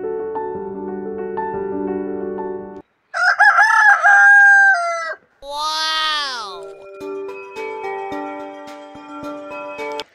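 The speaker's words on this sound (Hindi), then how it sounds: "बाकी मुर्गियाँ और मुर्गे भी ये हैं जो कि खुराक की तलाश में इधर उधर फिर रहे हैं" Several roosters crow in turn, loud and close, with clucking hens in between and some high squawks.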